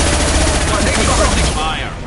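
Rapid gunfire rattles through a firefight in the video game Mass Effect 2, dense and loud bursts crowding together while a voice speaks over them.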